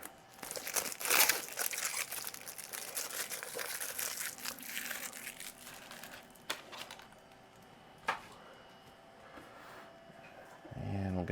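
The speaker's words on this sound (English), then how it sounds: "So I'll go ahead and get the peel pulled off on either side here." Crinkly plastic crackling as protective film is peeled off a PC case's glass panel, close and fairly quiet, with bursts of rustling, a couple of sharp clicks and a soft thump at the end.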